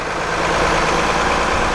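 A 2010 Thomas HDX school bus with a rear-mounted 260 hp Cummins ISC 8.3 diesel idling close by, giving a steady, loud, even drone that holds unchanged throughout.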